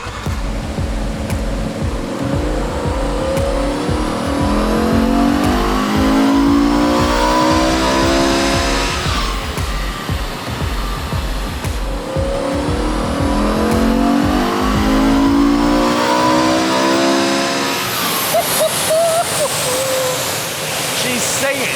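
A V10 BMW M5 converted to a manual gearbox roars loudly on a dyno, its engine note climbing and falling through repeated full-throttle sweeps before cutting off abruptly near the end.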